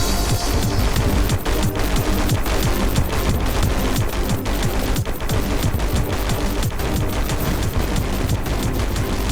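Rapid, dense gunfire from a gun in Terraria Calamity, a nonstop fusillade of loud shots with booming impacts filling the whole stretch with no talking.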